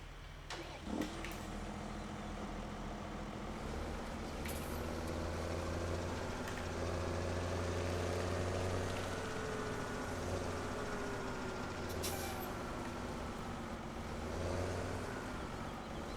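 A tractor engine in Farming Simulator 17 runs steadily at a mid-pitched drone, its revs rising and falling slightly, with a few brief clicks and no voices.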